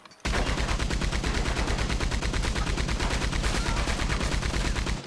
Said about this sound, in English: I've always wanted to smite the mad preacher with a Gatling gun.